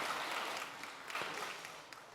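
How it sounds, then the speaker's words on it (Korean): A church congregation applauds during a Sunday service, with steady, diffuse clapping that fills the room for a couple of seconds without a break. "큰 박수로 하나님 앞에 영광 돌리겠습니다."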